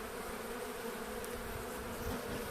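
Caucasian honey bees buzz steadily in a dense, continuous drone at winter emergence from the hive, close and even throughout with no voices.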